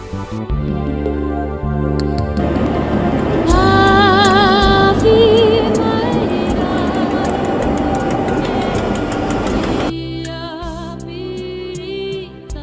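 A train rolls steadily along the rails in New Zealand's South Island, loud and close, with rumbling wheels and a high squeal in the middle, and no voices.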